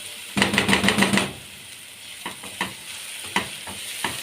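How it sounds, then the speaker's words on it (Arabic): Onions stirred in a hot pan while they sizzle, with a quick run of scraping, clattering spoon strokes for about a second, then quieter sizzling broken by a few separate knocks of the utensil against the pan. "هنقلب بقى في البصل كده"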